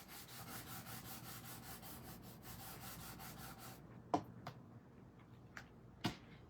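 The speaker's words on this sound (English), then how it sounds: "I'm going to rub this really good" A paper card piece being rubbed firmly by hand, a soft steady scraping that runs for several seconds before stopping, followed by a few faint taps.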